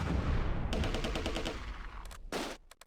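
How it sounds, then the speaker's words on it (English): German MG-42 machine gun fire in the wartime strategy game Close Combat, a rapid ripping burst followed by a couple of shorter sharp bursts, fairly close and clear. "An MG-42."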